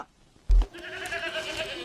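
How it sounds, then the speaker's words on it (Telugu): A single sheep lets out a loud, close bleat after a brief quiet start, its wavering cry held for over a second. "డాడీ గొర్రెలు వచ్చారు."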